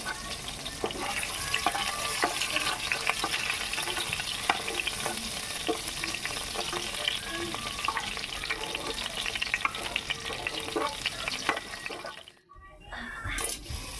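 Large paneer pieces shallow-frying in hot oil in a pan while being turned: a close, continuous sizzle with stirring scrapes, cutting out briefly near the end and then returning.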